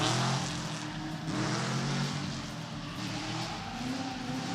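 A blue Z and a Camaro tandem drifting in a top-32 competition battle, a steady loud engine roar with tire noise filling the whole stretch at constant distance, no talk over it.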